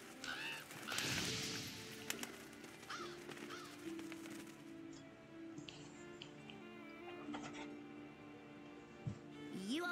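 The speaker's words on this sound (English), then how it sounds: "Seems the black birds are the culprits." Revoltures, black scavenger birds in Monster Hunter World, cawing in a few rough calls near the start, then fainter scattered clicks and bird noises over a quiet ambient bed.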